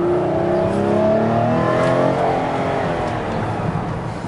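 A 2012 Chrysler Town & Country minivan engine revs up as it accelerates, its pitch rising and strengthening over a few seconds, heard from inside the vehicle with no talking.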